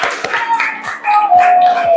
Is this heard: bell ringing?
no